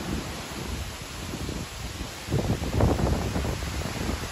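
Strong wind roars and buffets against the microphone at a high spot in a park in Japan, a rough low rumble that surges louder midway through.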